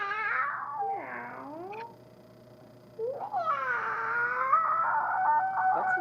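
A voice imitates a cat, giving a couple of wavering, rising-and-falling meows, then a short pause before a longer, drawn-out yowling meow. The calls sound close and fairly clear.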